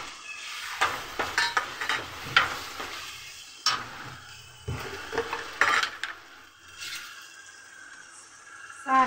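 Potatoes tipped into spices frying in ghee for aloo chhole, a cluster of clattering drops and scrapes against the pan, then intermittent stirring over a soft sizzle, close and without talking.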